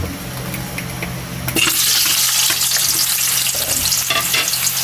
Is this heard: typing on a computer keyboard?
no